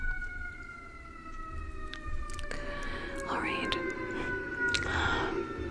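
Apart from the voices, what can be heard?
sirens outside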